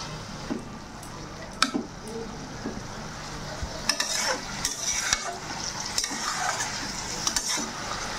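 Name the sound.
lai leaves sautéing in a pan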